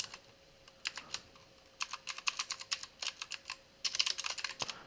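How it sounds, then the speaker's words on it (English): Quick, light key presses on a computer keyboard while entering a database name, irregular clusters of clicks with short pauses, close and fairly quiet over a faint steady hum. "I need to actually highlight this and type the correct"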